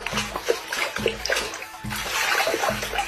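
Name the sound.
water splashing in a bucket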